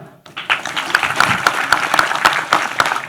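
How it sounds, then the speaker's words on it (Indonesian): An open forum audience at a Kenduri Cinta gathering breaks into applause after a short silence, building quickly to a full, sustained clapping from a large crowd with a few louder claps near the front. "Tepuk tangan lagi dong."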